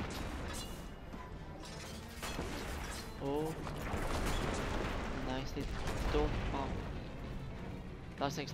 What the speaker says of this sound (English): That's an explosion and a half.